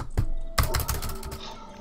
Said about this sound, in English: I like how I can hear you pounding on the keyboard.